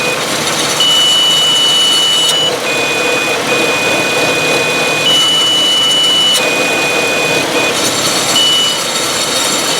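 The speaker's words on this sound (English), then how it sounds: "Now I'll engage the compressor clutch." A car engine idles steadily and close with the AC compressor clutch engaged and no belt-pulley rattle, a constant smooth drone with thin tonal whines that step on and off.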